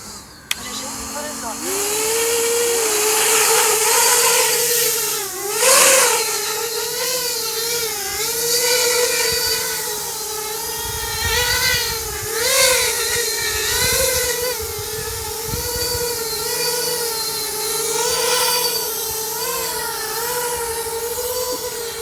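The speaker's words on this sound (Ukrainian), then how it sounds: "Так, ну що, перевіряємо дрон" Drone flying during a visual test without goggles: a loud, continuous whirring motor whine that rises and falls in pitch as it maneuvers, sustained throughout with faint talk beneath.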